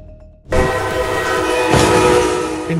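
A Brightline train roars past at close range, loud and sustained, with a horn-like tonal layer over rumbling wheels.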